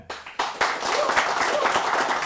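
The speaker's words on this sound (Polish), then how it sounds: "Bardzo dobrze, że sami sobie zabiliście brawa w moim imieniu." Studio audience applause, brisk clapping that builds after a few stray claps into a full, steady round, close and lively.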